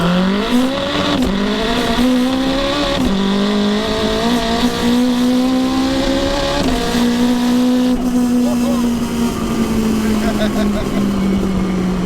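A 922hp all-wheel-drive Honda DC5 accelerating hard on track, a loud engine note climbing in pitch through several gear pulls, close and continuous, with a voice talking over it.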